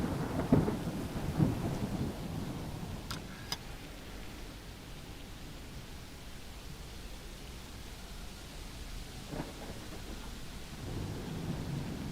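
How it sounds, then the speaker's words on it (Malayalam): Heavy rain hisses steadily outside with low rumbles of thunder rolling in at the start and again near the end, a continuous wash of rainfall filling the gaps between. "പുറത്ത് നല്ല മഴയാണ്."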